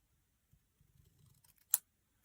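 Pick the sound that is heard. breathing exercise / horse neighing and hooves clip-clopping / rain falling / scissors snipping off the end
scissors snipping off the end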